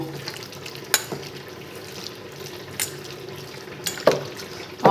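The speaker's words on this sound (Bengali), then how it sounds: "এবার আমি তেলের মধ্যে এক এক করে সব ভেজে নেব" Batter-coated chilli chicken pieces frying in white cooking oil, a steady low sizzle with a few sharp clinks and stirring knocks spaced through the stretch, close and moderately loud with no talking.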